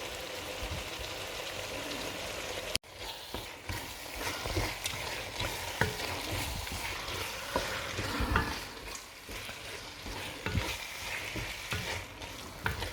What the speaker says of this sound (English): I just want to cook the tomatoes, add tomato puree, and then the sauce will be ready.